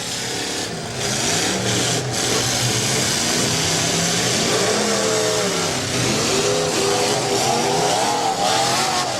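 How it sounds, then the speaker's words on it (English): Several demolition derby car engines revving hard at a county fair event, a loud continuous roar with wavering, rising and falling engine pitches layered over crowd and arena noise. "Listen to these motors, ladies and gentlemen."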